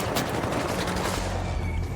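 Dense gunfire in the video game Arc Raiders, rapid overlapping shots forming a continuous loud burst that stays close and unbroken for about two seconds.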